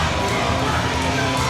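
A wrestling crowd at a CWF tag team championship match cheers loudly in a dense, unbroken roar of many voices filling the arena.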